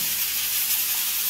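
Pancake batter ladled into a hot pan sizzles with a steady, bright hiss, close and continuous, with no voice over it.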